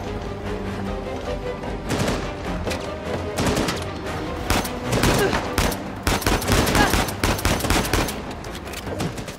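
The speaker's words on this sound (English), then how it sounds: "I don't even know who Nadine's shooting at." Dense gunfire in the video game Uncharted: The Lost Legacy, loud sustained bursts of rapid shots and automatic fire with sharp cracks throughout, a voice faintly under the shooting.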